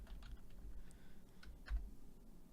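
Keys on a computer keyboard tap in a loose, quiet rhythm over low room hum, a scattering of soft clicks with one slightly heavier press.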